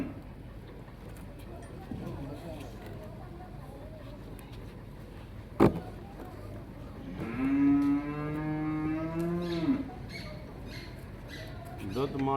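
A Cholistani Friesian cross cow lets out one long, loud moo partway through, heard on a farm over low background noise, with a sharp knock just before it and another call starting at the end.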